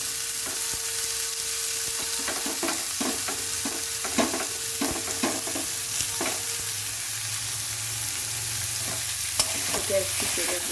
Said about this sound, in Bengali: এই থোড়টা এই তেলের সাথে একটু ভেজে নেব